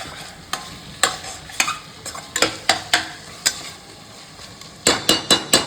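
A spoon scrapes and knocks against a pan while veg pulao is stirred and fried, sharp irregular clinks over a low sizzle, with a quick cluster of strikes near the end.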